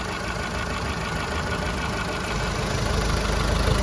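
Volkswagen Golf Plus with a 1.4-litre 59 kW naturally aspirated petrol engine idling steadily, a loud, even, continuous mechanical hum heard up close with no voices over it.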